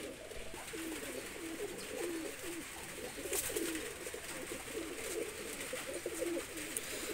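Golden and teddy pigeons let loose, giving a steady low cooing that rolls on for several seconds at moderate distance with soft background hiss and no talk.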